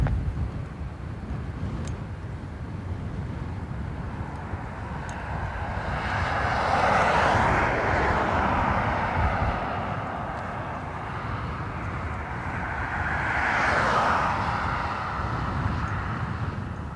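Ryanair airliner arriving from Brussels and landing at Dublin Airport, a steady broadband jet roar that swells twice as it passes, heard from a moderate distance with no voices.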